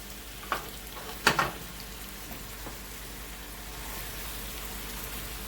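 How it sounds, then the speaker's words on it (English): Tofu crackles and sizzles in a hot pan on high heat, a steady fizzing hiss with a couple of sharper pops near the start. "I want it frying though, I don't want it boiling."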